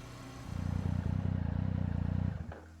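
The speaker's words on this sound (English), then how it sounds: "The motorcycle finally comes to a stop beneath a platform on a hillside terrace in the N109 zone." Motorcycle in the video game Love and Deepspace, a loud pulsing engine rumble that swells in, holds with a rapid throbbing rhythm for about two seconds, then cuts down to a quieter idle.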